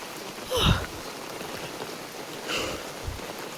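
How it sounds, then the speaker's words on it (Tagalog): Steady rain falls outdoors on a rainy trip to farm fields, a continuous hiss with a couple of louder nearby rustles and splashes. "Ito lang yung mahirap kapag maulan."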